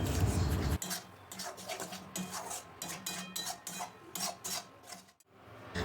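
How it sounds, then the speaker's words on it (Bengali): A spoon scrapes and stirs red chilli powder, turmeric, cumin and coriander powder frying in a pan, giving a continuous gritty rasp with rhythmic strokes, close and moderately loud, with a brief dip near the end. "একটু রেড চিলি পাউডার, একটু হলুদ আর জিরে গুঁড়ো আর ধনে গুঁড়ো দিয়ে নিলাম, দিয়ে ভালো করে একটু নেড়ে চেড়ে নেব"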